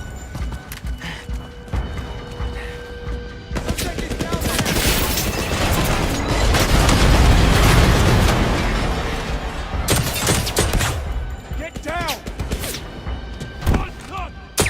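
A grenade blast and bursts of automatic gunfire in the action game 007 First Light, loud and dense through the middle of the clip, with shouted voices, impacts and clattering effects around it.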